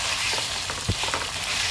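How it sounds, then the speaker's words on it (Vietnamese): Pork cutlets seasoned with lemongrass and salt frying in hot oil, a dense steady sizzle with a few soft crackles and pops, close and alone. "mình chiên vừa vàng tới thôi."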